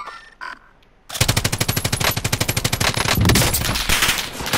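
Automatic gunfire in the video game Warzone, a long rapid burst of loud close shots with a sharp, even rhythm, starting after a short quiet lead-in with faint game sounds.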